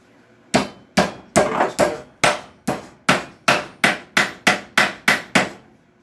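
A ball peen hammer strikes muffler metal clamped in a vise, bending it over with about fifteen loud, close, sharp metallic blows at a steady, slightly uneven pace.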